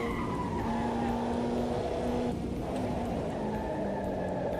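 A race car drifting on cold tyres in Automobilista 2 at 80% throttle, a steady engine drone with a sustained tyre squeal running throughout, loud and continuous.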